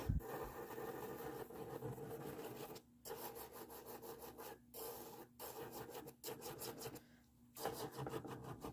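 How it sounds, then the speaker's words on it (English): An electric nail file turned down to speed 4 smooths builder gel on a nail form, giving a faint, close, gritty rubbing whir in short bursts separated by brief pauses. "I'm going to turn down my RPMs to 4, and this is just going to kind of smooth everything over"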